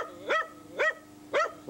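A dog barks three times, evenly spaced, short sharp yips against a quiet background.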